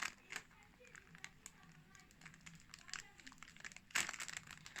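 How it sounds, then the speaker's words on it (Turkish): A plastic bag crinkles softly as its mouth is melted shut with a heat sealer, with faint rustling and crackling close by and a sharper crinkle near the end. "Gayet güzel eritiyor poşetin ağzını kapatıyor."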